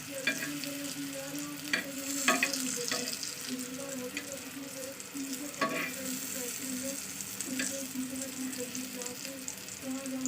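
Pumpkin slices fry in a pan over a low gas flame, giving a steady soft sizzle with occasional stirring clinks and scrapes, close and moderately quiet, with no talking.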